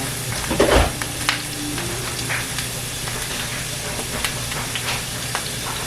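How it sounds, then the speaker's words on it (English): Onions sizzle steadily in a hot pan at close range, with a louder crackle as they first hit the oil, then an even frying hiss broken by small pops and stirring sounds. "Onions smell good going in the pan"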